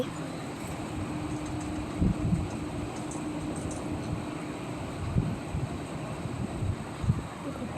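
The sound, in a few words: train passing by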